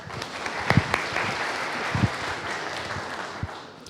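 Audience applause at a forum fills the space, steady scattered clapping from a moderate-sized crowd at mid distance, with a few sharper claps standing out and no talking over it.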